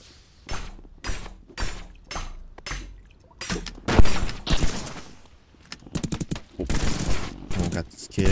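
Bursts of gunfire inside the Rec Room game, with rapid repeated volleys and single sharp shots coming in clusters, loud and close, while players talk over the shooting.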